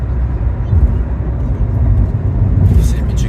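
Heavy Friday traffic streaming along a highway on a road trip from Florida to Michigan, a continuous loud tire-and-engine roar with swells as vehicles pass close by.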